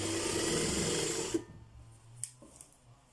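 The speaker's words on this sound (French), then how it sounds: "On va piquer au point droit, tout simple." A sewing machine running a simple straight stitch on jersey fabric hums steadily and close for over a second, then stops, leaving quiet handling clicks and faint rustles.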